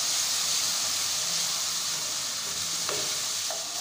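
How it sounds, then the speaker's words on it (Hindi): Onions frying in a pan for chana dal, with a dense, loud, even sizzling hiss from start to finish and a couple of faint utensil taps near the end. "और उसको अच्छे से भूनना है ताकि प्याज भी सॉफ्ट हो जाए"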